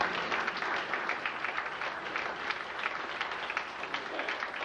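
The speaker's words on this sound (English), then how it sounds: "FFA members, help me in giving them a round of applause." Standing round of applause from a crowd at an FFA banquet, steady dense clapping sustained for several seconds, heard at a moderate distance and fairly quiet.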